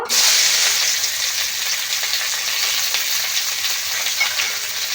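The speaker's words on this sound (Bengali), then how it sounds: "এদিকে তেল গরম হয়ে আছে কিছু পেঁয়াজ কুচেছিলাম দিয়ে দেব" Chopped onions hit hot oil for a rustic colocasia-leaf mash, setting off a loud, bright sizzle at the start that settles into a steady crackling fry, close and uninterrupted.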